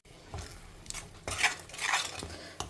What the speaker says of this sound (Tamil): இந்த மிக்சியில் இருக்கிறது எல்லாமும் வழித்து போட்டுடுறேன்.